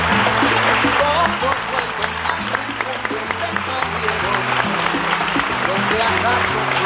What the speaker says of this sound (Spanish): Un gran aplauso para el doctor César Miró.